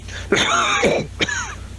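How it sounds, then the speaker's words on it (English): A deliberate, throaty cough-like burst followed by a shorter second one, close and fairly loud, sounding more performed than natural. "was that a real cough?"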